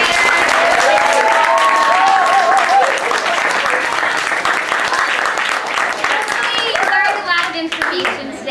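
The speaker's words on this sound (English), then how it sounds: "a big round of applause once again for the fifth graders" Audience applause for a fifth graders' school show, a dense sustained wash of many clapping hands filling the room, with voices and cheers mixed in throughout.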